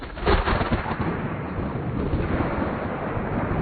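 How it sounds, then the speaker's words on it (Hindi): Low, continuous rumble of thunder fills the whole stretch, a dense wash that swells near the start and then holds steady and loud, with no voices. "ये बादल की गरज"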